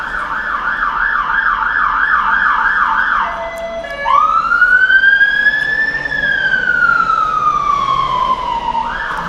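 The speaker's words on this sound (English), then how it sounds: "Siren." An emergency vehicle siren passes nearby, first a rapid warbling wail, then a long rising and slowly falling tone, loud and clear over faint road traffic with no talk.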